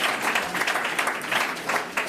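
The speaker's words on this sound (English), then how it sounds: "Can you please give these four panellists a very, very warm round of applause?" Brief warm round of audience applause for four panellists at a European elections discussion event, steady even clapping from a seated crowd.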